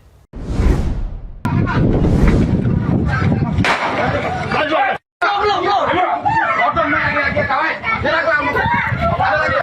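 Loud police warning gunshots fired into the air crack out near and far amid a noisy, agitated crowd with shouting voices, the bursts and chatter overlapping throughout.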